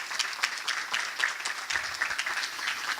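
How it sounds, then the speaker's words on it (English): A college summit audience in a large venue claps together in a dense, steady round of applause lasting throughout, fairly even in loudness. "give yourselves a round of applause for the work you did today"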